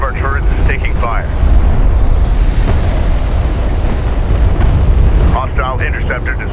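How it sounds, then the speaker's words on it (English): Airstrike explosions rumble and boom in the strategy game Homeworld: Deserts of Kharak, a loud sustained blast roar swelling in the middle, with radio voices speaking at the start and end. "Enemy airstrike inbound."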